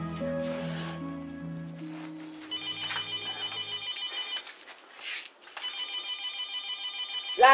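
A telephone rings repeatedly in a Nigerian Yoruba drama scene, sounding as two sustained high electronic ringtone bursts, fairly close and clear, with low musical tones beneath at first and no talk over the ringing.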